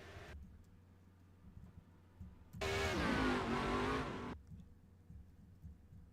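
Race car engines in a NASCAR Racing 2003 Grand National Series replay, a loud high-pitched engine scream rising and sweeping for a couple of seconds as a Mobil 1 car spins out in a corner, between quieter stretches of engine rumble.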